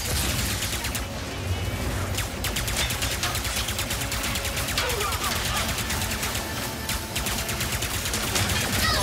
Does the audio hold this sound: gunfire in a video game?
yes